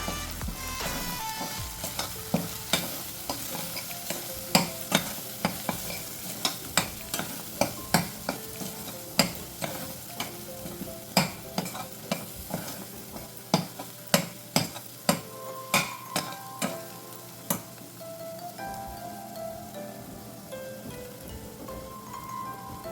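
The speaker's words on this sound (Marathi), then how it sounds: "धणे जिरे पावडर आता हे मसाले आपण घाटून घेऊया" Coriander-cumin powder and garam masala are stirred in a hot pan for an Indian masoor lentil and potato dal, a steady sizzle broken by repeated sharp scrapes and taps of the spoon, close and without voices.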